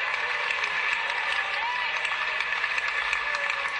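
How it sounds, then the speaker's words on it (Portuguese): Crowd at a 2014 Orléans semifinal tennis match between Paul-Henri Mathieu and Thomaz Bellucci applauding and cheering steadily after saved match points, a dense, continuous roar of clapping and voices. "A torcida faz a festa."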